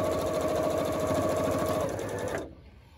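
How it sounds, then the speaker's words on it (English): A sewing machine stitches a 1/4 inch seam through backing fabric layered over quilted fabric, a fast even rhythmic whirring chatter for over two seconds before stopping abruptly, close and clear. "I'm gonna come over to my sewing machine, and with my backing fabric on top and my quilted fabric on the bottom, I'm sewing 1/4 inch."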